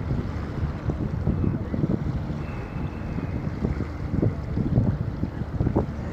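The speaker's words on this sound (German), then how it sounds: "Ist zwar ein bisschen windig hier," Steady gusty wind buffets the microphone on the bank of the Rhine river in Düsseldorf, a continuous low rumble with irregular surges throughout, with no voices present.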